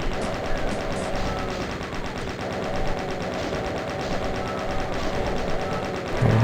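Relentless rapid-fire shooting from the video game DOOM, a steady machine-gun-like barrage that stays loud and continuous throughout with no voices.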